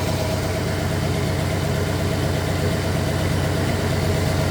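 A 1964 Oldsmobile 394 engine runs at a steady idle, close and loud, with an even low rumble and no other sounds throughout.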